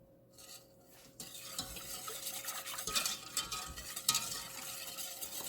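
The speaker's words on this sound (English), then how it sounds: "And then go back here and just keep stirring." A spoon stirs hot water pastry mixture in a pot over heat, making soft, continuous scraping and swishing with faint sizzling and occasional light clinks against the metal.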